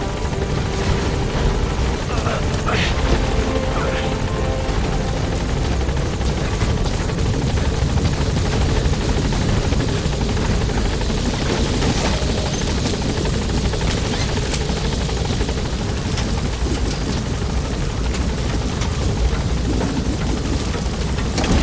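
A helicopter in the video game Metal Gear Solid V: The Phantom Pain gives a loud, continuous rotor roar with a rapid chopping throb that stays steady throughout. A faint radio voice is partly buried beneath it.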